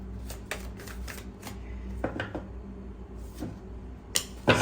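Tarot cards are shuffled and drawn close up, making quick papery riffles and soft flicks in several short bursts, with a sharper slap near the end.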